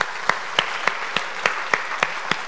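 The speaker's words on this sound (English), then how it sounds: "start with the clapping" A group at a laughter yoga session claps in unison, nine sharp, evenly spaced claps about a third of a second apart over a quiet background.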